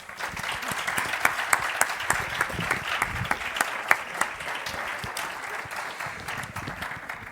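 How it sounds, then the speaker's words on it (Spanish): Audience applause for a speaker at a talk, a continuous bed of many hands clapping at moderate volume, with occasional sharper nearby claps. "un aplauso a Aurora estaría bien."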